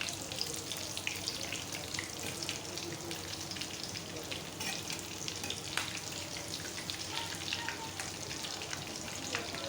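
Vegetable cheese cutlets fry in a pan with a dense, even crackling sizzle that holds steady at moderate volume throughout, with faint spattering pops and no speech.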